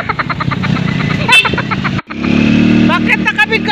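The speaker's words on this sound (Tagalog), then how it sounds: "First time ko sumakay ng motor papuntang magsaysay" A motorcycle ride to a village fiesta in the Philippines, the engine running close and loud with shifting revs, a brief dip mid-way, while people talk over it.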